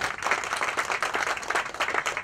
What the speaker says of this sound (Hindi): मैं चाहूंगा जोरदार तालियां बजाएं।